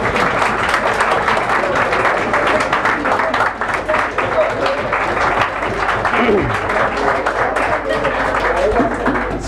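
A roomful of mass communication students at a career counseling session applauds in sustained, steady clapping that stays loud throughout, with someone speaking over it.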